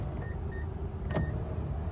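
A power folding motor on the third-row seat of a 2026 Nissan Armada SL whirs steadily at close range, a continuous low mechanical drone with a brief whine partway through, under a rumbling wash of wind noise.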